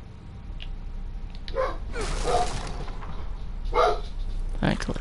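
A dog in the horror video game The Evil Within barks several times at moderate distance, short gruff bursts spread over a few seconds against a low rumbling background.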